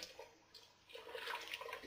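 Kettle water, boiled and about a litre and a half, pours into a container holding a large amount of sugar. A soft trickling splash grows stronger and steadier in the second half, heard close and alone.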